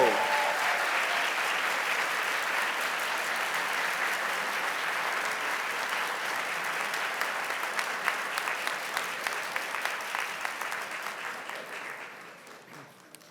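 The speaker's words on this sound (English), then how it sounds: "Please welcome, with a hearty round of applause" A school board meeting audience applauds the St. Lucie Public Schools Outstanding Assistant Principal of the Year, sustained many-handed clapping at moderate level that thins to a few scattered claps and fades near the end.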